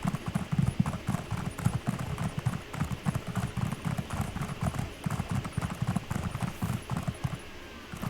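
Horse hooves clip-clop steadily through a town in a fantasy role-playing video game, a continuous brisk rhythm of close, moderately loud hoofbeats with no talk.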